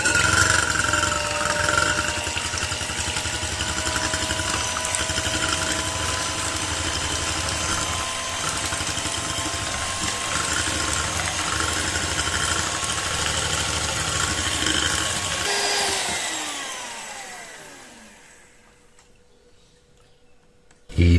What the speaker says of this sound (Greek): θα χτυπήσουμε σε σφιχτή μαρέγκα, ενσωματώνοντας σταδιακά 120 γραμμάρια ζάχαρη